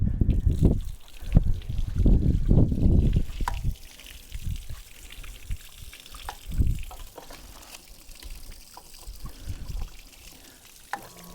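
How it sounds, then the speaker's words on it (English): Water from a dyno pump circulating through the water brake of a rebuilt 1931 Ford Model A Woody Wagon engine, heard as a gurgling, splashing flow that is louder at first, then settles into a quieter steady trickle with occasional bumps. "I just turned the dyno pump on, and that's circulating water through here"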